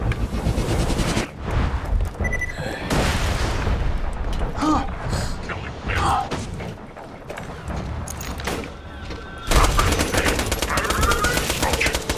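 Rapid shotgun and SMG gunfire in Borderlands 2, a steady barrage of loud shots and booms with game effects, nearly continuous across the clip.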